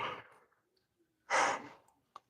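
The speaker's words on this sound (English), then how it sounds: "I don't know why I'm over yawning this morning." Someone yawns in the morning, with a breathy exhale trailing off, a short silence, then a second, louder open-mouthed yawning breath, and a small click at the end.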